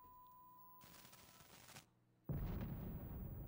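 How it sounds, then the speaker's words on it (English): Bombs exploding in Call of Duty Black Ops Cold War, a burst of rumbling blast noise, a brief lull, then a louder sustained roar of explosions, quiet and distant-sounding overall. "Bombs exploding everywhere"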